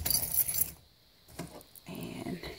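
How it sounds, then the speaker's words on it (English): Bulky keys jangle and clink as they are dropped into a colorblock leather Coach Pop-up Messenger crossbody bag, a bright metallic rattle at the start, then a pause and a few softer shuffling jingles. "the bulky keys."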